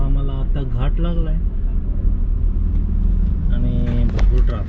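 Heavy road traffic on a ghat road on the way to Ujjain: a loud, steady rumble of passing cars and buses fills the whole stretch, with voices talking over it.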